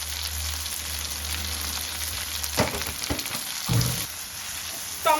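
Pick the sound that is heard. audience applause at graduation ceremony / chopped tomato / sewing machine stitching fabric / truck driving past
chopped tomato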